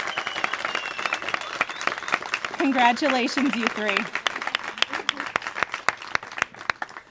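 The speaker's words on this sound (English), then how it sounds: "So let's all give a round of applause one more time for these 3 teams." Audience applause at a search team pairing ceremony at a National Training Center, for three newly paired teams: sustained crowd clapping throughout, with a voice speaking briefly over it in the middle.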